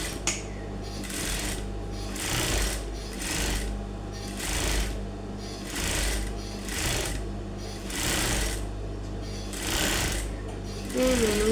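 A sewing machine stitches two fabric pieces of a smoke crop top together in a steady run of repeating bursts, each lasting about a second, close and loud throughout.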